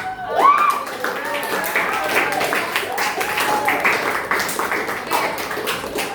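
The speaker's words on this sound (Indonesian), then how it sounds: "Oke, tepuk tangan tuh." Students in a junior high maths class clap together, a lively burst of close, uneven clapping lasting several seconds, with a teacher's voice and student voices mixed in over it.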